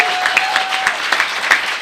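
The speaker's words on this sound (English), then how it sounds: "let's give a round of applause" Applause from a live studio audience at a talk-show taping, a steady wash of clapping with brief sharper peaks, near and fairly loud, with no voices over it.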